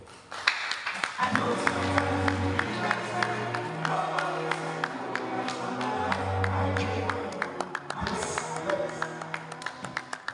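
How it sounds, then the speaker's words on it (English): A conference audience at a student tech event claps in a scattered, uneven way while music plays, with individual claps standing out near the end. "Can we clap better?"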